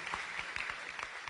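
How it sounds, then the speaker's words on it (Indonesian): Short burst of church congregation applause during a sermon, a steady dense wash of many hands clapping at moderate volume. "Beri tepuk tangan ya buat Tuhan kita Yesus Kristus."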